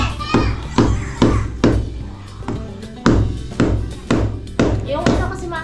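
A hammer strikes wood in a steady run of about a dozen sharp, close knocks, roughly two per second, with voices and children's chatter faintly in the background.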